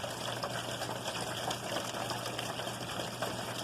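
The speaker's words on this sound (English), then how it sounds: "then you have this overflow, which makes it really flow like this." Heavy rainwater pouring over the edge of a clogged house gutter, a continuous dense splashing rush that stays steady and loud throughout without any talking.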